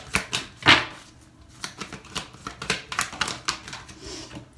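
Tarot cards shuffled and drawn by hand, a run of quick papery flicks and slaps close up, one sharper riffle near the start, with no talking.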